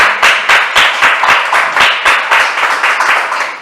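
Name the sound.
congregation applause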